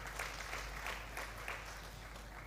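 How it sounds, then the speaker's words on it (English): At an agroecology market expo, an audience claps for a professor, a faint, distant patter of many hands that holds steady through the short stretch. "Let's clap for him again."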